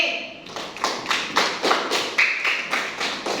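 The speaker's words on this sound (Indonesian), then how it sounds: "kita beri aplaus dan tepuk tangan buat kelompok C" Classroom hand clapping for a student group, heard as a slow, rhythmic series of distinct claps, about three per second, fairly close and even, without talk over them.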